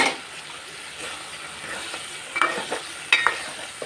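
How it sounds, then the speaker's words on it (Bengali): Washed dried fish tossed into a pan of cooked spice masala, a close sizzle with stirring strokes and a few wet scraping clacks from the spatula. "এই যে ধুয়ে রাখা শুকনো মাছটা দিয়ে দিচ্ছি আমি"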